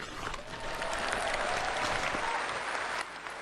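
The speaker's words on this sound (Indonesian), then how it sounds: "Tepuk tangannya kurang semangat." A crowd claps continuously and fairly faintly, with the steady patter of many hands held at an even level throughout, briefly dipping near the end.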